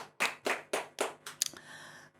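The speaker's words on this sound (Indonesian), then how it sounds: "Tepuk tangan." A few hands clap to welcome a guest in a podcast studio: about five distinct, close claps in an even rhythm, then a quick flurry that fades into quiet room tone.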